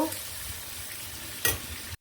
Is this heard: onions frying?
yes